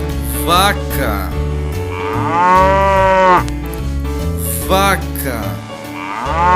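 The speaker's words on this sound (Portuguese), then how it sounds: "vaca" A cow moos in a children's animal-sounds sequence, with several loud, close, drawn-out lowing calls that swell and fall one after another.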